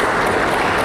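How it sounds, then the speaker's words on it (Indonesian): An audience at a public event bursts into dense, steady applause, a loud wash of many hands clapping together with no talk over it. "Tepuk tangan buat semuanya yang sudah mendukung,"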